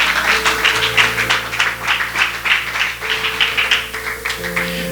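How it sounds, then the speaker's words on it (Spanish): Applause rises from a church congregation, dense clapping filling the sanctuary steadily, with an organ or keyboard tone sustaining underneath. "Denle un aplauso a Jesús."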